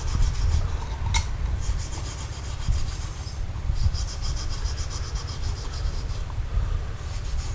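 Steel wool scrubs back and forth across a metal roof sheet in quick, steady rasping strokes, close and continuous, with a faint low rumble underneath and no speech.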